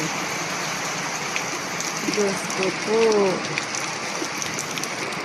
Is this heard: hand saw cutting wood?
no